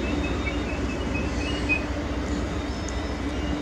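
A passenger train pulls into platform 7 at Crewe station on the West Coast Main Line. A steady, moderate rail rumble continues throughout, with faint high wheel tones above it.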